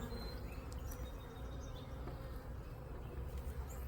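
Agitated honey bees swarming at an open hive during beekeeping, a steady, dense buzzing hum close by with individual bees whining past, continuous and without talk.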